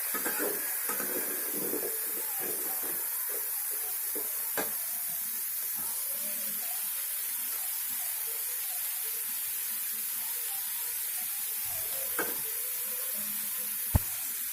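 Vegetables for pui shak chachhari frying in oil in a pan, giving a steady soft sizzle and hiss throughout, with a few faint clicks of stirring and one sharp tap near the end, and no talking.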